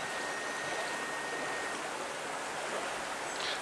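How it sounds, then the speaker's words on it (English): The River Plym flows through woodland a few miles from Plymouth, making a steady, full rush of water that stays constant and fairly loud throughout, with no voices. "The River Plym has now become a woodland river"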